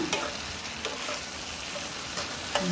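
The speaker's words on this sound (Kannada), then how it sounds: "ಚೆನ್ನಾಗಿ ಫ್ರೈ ಮಾಡ್ಕೊಳ್ಳಿ." Ginger garlic paste fries steadily in a pan, a continuous close sizzle with occasional soft scrapes of stirring, no voices.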